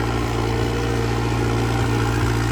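A steady, low tractor engine rumble runs unchanged throughout, idling close by on a farm during potato work.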